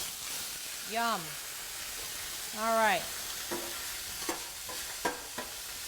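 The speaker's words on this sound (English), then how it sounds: "And we're going to let him sizzle up." Steak sizzles in a smoking-hot sauté pan, a steady broadband hiss that runs the whole time while a person briefly speaks over it.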